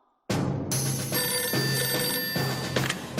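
A cartoon telephone rings for an elf rescue service, a bright repeating electronic ring with steady bursts over music, loud and close, with no talk.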